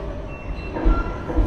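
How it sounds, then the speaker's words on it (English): A London Underground train rumbles into the platform, low heavy rolling noise growing louder as it draws near, with a faint high whine and a brief electronic tone above the rumble. "that looks like my train. So here's my train."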